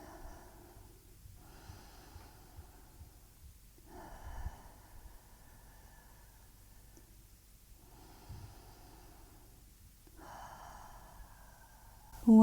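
Slow, deep breaths during a yoga leg stretch onto the forearms, soft and close, with long inhales and exhales spaced a few seconds apart and a quiet room between them.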